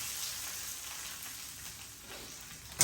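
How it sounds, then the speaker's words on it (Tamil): Mustard seeds crackle and sizzle steadily in hot oil, a dense, close frying hiss with no voices. "கடுகு மொத்தரம் போட்டுட்டு தாளித்து நல்லா கொதிக்கட்டும்."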